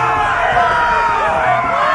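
A dense, roaring crowd cheers in the Game of Thrones Telltale video game, a sustained wall of massed shouting and whooping that stays loud and continuous throughout.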